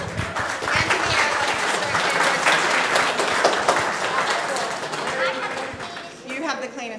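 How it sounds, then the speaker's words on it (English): An audience claps during a church service, a steady wash of applause lasting several seconds with voices and cheers mixed in, tapering off near the end. "Let's give them a clap."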